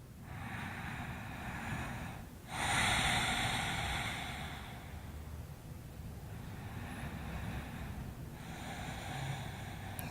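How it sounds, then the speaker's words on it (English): Deep, steady breathing during a core exercise workout, with a louder, forceful exhale burst near the start followed by quieter continuous breaths against a broad, noisy background. "A few more breaths here."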